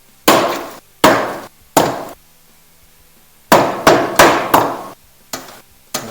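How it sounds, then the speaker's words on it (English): A low hammer with a plastic face taps the bottom of a carburetor bowl from a 1973 Honda SL125, giving nine loud, close, ringing knocks in uneven groups with short decays and silence between, no talk. "now hit the bottom of the bowl and try and go in this direction"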